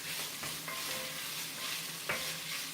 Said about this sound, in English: So I'm going to mix this around and just get it incorporated into our onions and